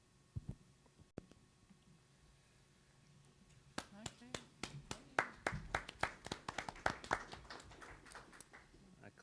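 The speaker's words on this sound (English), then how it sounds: "clap in full-blown agreement of that" Scattered clapping at a school board of education meeting, starting with a few isolated claps and building into a modest round of hand claps from a small group in a quiet room.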